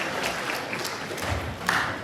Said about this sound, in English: can you please give a big round of applause to your parents?